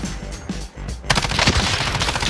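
Rapid automatic gunfire in the Warzone video game, a burst of close, loud shots that starts after a brief lull and continues to the end.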